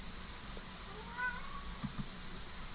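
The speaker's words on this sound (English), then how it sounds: "That's my cat." A house cat gives a couple of faint, brief meows somewhere in the background of a quiet room, set against a steady low hum.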